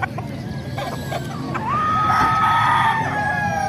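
A large kanawayan rooster at a market in Bocaue gives a single strained, rising crow over steady crowd noise and distant bird sounds.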